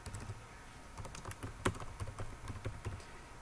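Quiet, steady typing on a computer keyboard, soft key taps clattering in short irregular runs with one sharper stroke midway, close up and alone.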